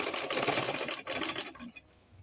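Close, fast stitching from a sewing machine running along a fabric neckline, a busy rattling run for about a second and a half before it slows and stops.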